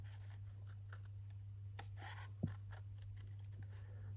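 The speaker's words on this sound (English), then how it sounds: "get in there with the scissors for the finer lines." Scissors snip and scratch through paper, soft and close, scattered irregularly with one brief sharper snip partway through, over a steady low hum.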